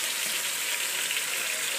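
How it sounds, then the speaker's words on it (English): Chicken pieces sizzle steadily in a hot pan, a dense, continuous frying hiss that holds loud and even throughout, with no voices over it. "So you hear that sizzle."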